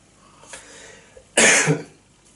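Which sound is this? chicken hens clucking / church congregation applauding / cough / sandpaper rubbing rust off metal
cough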